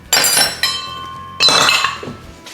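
Spoonfuls of shortbread dough tapped off teaspoons onto a metal cookie sheet, three bright metallic clinks with ringing tones, close and fairly loud, no talk.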